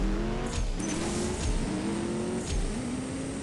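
A Corvette engine in the CSR2 racing video game revs hard and continuously, rising and falling with gear shifts, loud and close with no talk.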